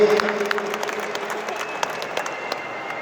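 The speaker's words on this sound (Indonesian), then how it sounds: "tepuk tangan buat FPPPI." An audience at a Betawi community organization inauguration ceremony applauds, a lively, sustained burst of many hands clapping close by, fairly loud and unbroken, with no speech over it.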